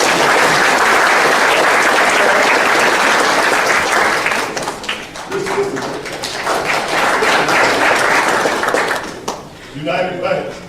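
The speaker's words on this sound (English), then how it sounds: "let's give them a round of applause" Luncheon audience applauding at the 2012 CCCWV Partner's Luncheon: dense, sustained clapping from a large room that thins briefly midway, then swells again before tapering off, with a voice emerging near the end.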